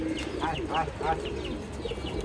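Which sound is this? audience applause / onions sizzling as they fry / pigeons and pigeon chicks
pigeons and pigeon chicks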